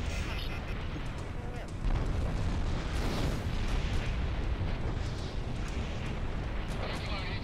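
A destroyed enemy vehicle explodes in the flight combat game Ace Combat 6, a dense roaring blast that swells and rumbles on beneath continuous jet and battle noise.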